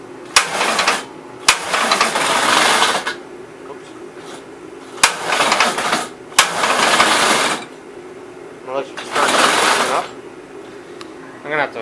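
Starter cranking a 1962 Gravely postal tractor engine that has spark but no fuel: several separate bursts of churning, whirring turnover, each lasting about one to two seconds, fairly close and loud, with short pauses between attempts and no catch.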